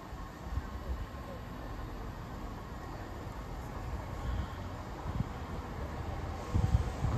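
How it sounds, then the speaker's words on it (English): A train rumbles into Barrow-upon-Soar station steadily with low, broadband noise that swells toward the end, with some wind buffeting on the microphone. "here comes the train"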